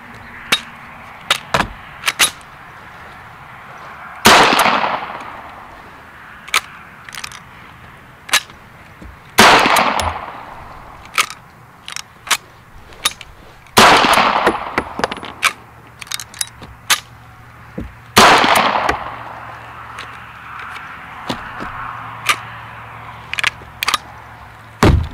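An Intratec TEC-9 9mm pistol fires as a series of sharp, loud single cracks spaced irregularly, with several heavier blasts that ring out and decay into echo between shots, and no one talking.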